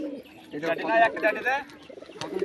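Teddy pigeons coo up close, a few rising throaty rolls in short bursts with quieter pauses between and a voice speaking at moments.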